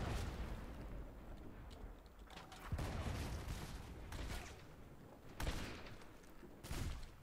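Repeated cannon blasts in the pirate ship game Blazing Sails, heavy booming shots landing in irregular bursts across the stretch, some close and loud, others duller, with brief quieter gaps between volleys.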